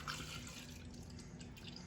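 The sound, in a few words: black cold brew coffee poured into a cup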